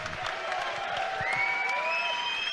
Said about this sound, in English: a big round of applause to both fighters